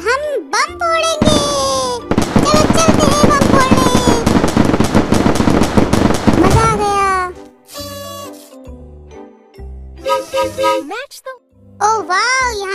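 Cartoonish bomb-bursting effects from a kids' picture-matching video game, a dense barrage of crackling, popping bursts with bright tonal chimes, loud and continuous for several seconds, followed by sparser game jingles and chirps.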